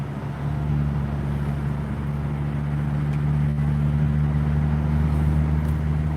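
A Mitsubishi Ralliart car with a 2.0-liter turbocharged engine drives at speed, giving a steady, loud drone with low engine hum and road noise that runs evenly throughout with no talking.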